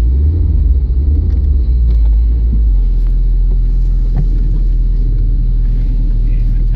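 Cheap $75 car running on a test ride, a loud, constant low engine and road rumble filling the interior with faint knocks over it.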